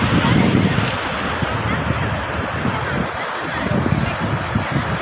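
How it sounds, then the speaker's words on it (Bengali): Large sea waves breaking on the shore at Digha beach, a continuous loud roar of surf with wind buffeting the microphone and no pause throughout. "বিশাল ঢেউ আসছে, বিশাল ঢেউ।"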